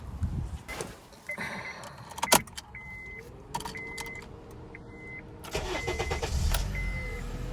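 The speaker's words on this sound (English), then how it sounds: "let's go start the engine" Keys jangle and a 2009–2012 Honda Accord's warning chime beeps a few times, then the engine cranks and settles into a steady idle close by, just after a spark plug replacement.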